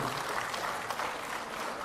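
An audience at a Telangana public event in Adilabad applauds, a steady wash of many hands clapping at moderate distance, continuous and even for the whole short stretch.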